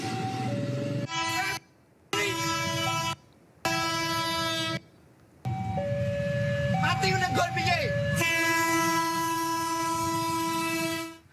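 A KRL commuter train rumbles past close by at the Pasar Nongko level crossing in Solo, Central Java, its horn blaring in long repeated blasts with short gaps, then one sustained blast over the steady roar of the wheels.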